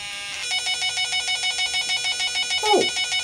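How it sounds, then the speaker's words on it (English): A telephone rings in a regular repeated electronic trill, about a dozen evenly spaced bursts, loud and close, with a brief voice near the end. "Oh, the phone."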